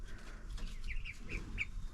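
Canadian-breed chickens and roosters in a chicken tractor give a few soft, short clucks over low background rumble, faint and fairly close.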